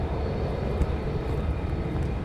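Distant roar of an F-35 or F-15 fighter jet at Lakenheath, a steady rumbling drone with no voices, heard briefly and fairly faint.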